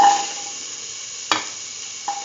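Shallots sizzle in a pan with a steady hiss while being stirred, with a sharp clack of the utensil partway through and a softer knock near the end.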